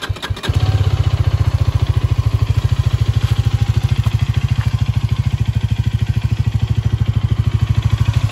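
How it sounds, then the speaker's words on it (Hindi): A Hero Karizma XMR motorcycle engine fires up with a brief crank, then settles into a loud, steady, thumping idle with an even rapid pulse. "एक बार बाइक स्टार्ट करके साउंड भी सुनवा देता हूँ"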